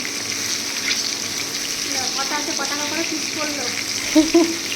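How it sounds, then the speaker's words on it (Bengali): Steady sizzling of large prawns frying in a pan runs throughout, with a voice speaking faintly over it near the middle and end. "আমরা চিংড়ি মাছটাকে ভাজবো"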